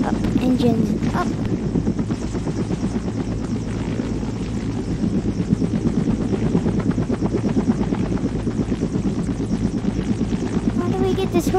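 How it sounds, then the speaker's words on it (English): Helicopter engines run at full power while the craft struggles and fails to lift off, a loud, steady rotor and turbine roar filling the whole stretch with voices faint beneath it. "How do we get this helicopter off the ground?"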